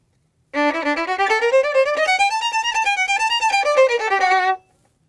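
A fast string passage on a bowed instrument played continuously at full speed, a rapid unbroken run of notes that rises and falls in pitch for about four seconds before stopping cleanly.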